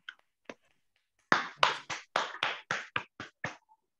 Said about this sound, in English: he deserves a big round of applause from all of us again